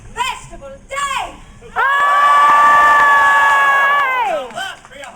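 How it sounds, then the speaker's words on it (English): A crowd of adults and children at a Renaissance faire king's court lets out a long, loud, sustained cheer of mixed shouts and screams, with short bursts of talk before and after it. "Now that be a hearty cheer indeed, good people."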